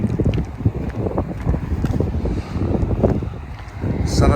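Wind buffeting the microphone in low rumbling gusts while jogging outdoors, continuous and close, with movement noises throughout.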